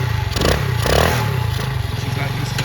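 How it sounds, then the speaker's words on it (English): A Honda CT70-clone Icebear Champion monkey bike engine starts and runs with a steady, close low thrum and some rattly clatter, while voices talk over it. "You can either kick start it or you can hit the electric button."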